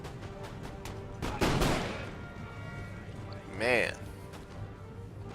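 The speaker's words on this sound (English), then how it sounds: "And why not throw in some artillery, right?" Artillery fire in Empire: Total War multiplayer battle, a few distant cannon booms and rattling shots spread across the battlefield, with someone speaking briefly over them.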